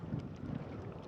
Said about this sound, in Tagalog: Sobrang lakas na yung hangin doon sa labas.